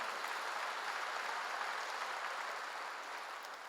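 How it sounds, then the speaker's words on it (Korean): A church congregation claps together during a worship sermon, a steady dense patter of many hands that holds at an even level and fades slightly toward the end, with no talking over it. "박수로 하세요."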